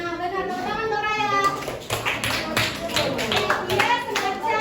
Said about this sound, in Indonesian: Tepuk tangan untuk Raya